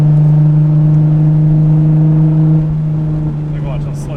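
Nissan 350Z with blast pipes burbling on its own while coasting, a loud low droning exhaust note that holds steady then drops away, followed by softer popping crackle up close.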